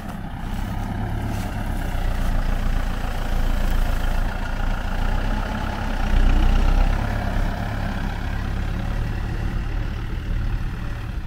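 A Steyr CVT 6140 tractor engine runs steadily nearby, a continuous low diesel rumble with a brief swell in loudness midway and no voices.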